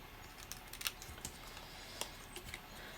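Paper is trimmed close by to remove a scored fold bump on a stamped card, making sparse, soft snips and clicks scattered through quiet room tone, with no talking.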